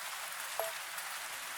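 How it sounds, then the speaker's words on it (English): Steady rain falls at night in the video game Estella, a soft, even hiss with one small drip-like blip, quiet and continuous with no voices. "The sound of rain embracing the descending darkness"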